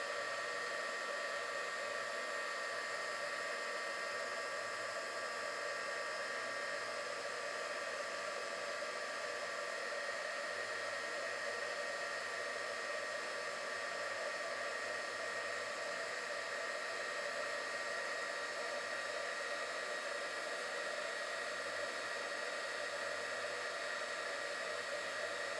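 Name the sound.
heat gun blowing hot air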